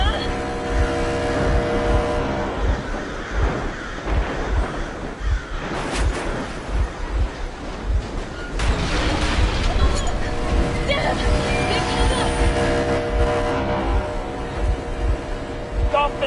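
A boat engine in the video game Metro Exodus rumbles continuously and loudly up close, mixed with other game noise and bursts of activity, under talk.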